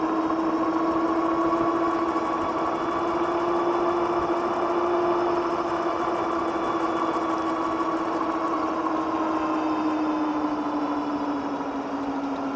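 A Windhorse V8MINI 750 watt e-bike on throttle alone, climbing a hill: a steady, loud electric motor whine with a slowly shifting pitch, continuous and close, with no talking.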